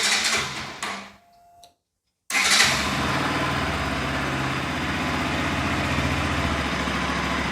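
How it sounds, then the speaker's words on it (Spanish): A Bajaj Pulsar 200 FI fuel-injected motorcycle engine cranks in a short burst, pauses in silence, then catches and settles into a steady, loud, close idle that runs on without talk. "Ahí nos prendió nuestra motocicleta."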